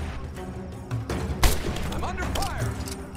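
Rifle fire in Rise of the Tomb Raider, a single loud shot about midway cutting through busy in-game sound and music, with someone talking over it.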